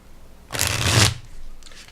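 A Morgan Greer tarot deck, slightly thicker cardstock, bridge shuffled once: a dense, close rippling riffle of cards lasting about half a second, then a softer settling whir as the deck is squared.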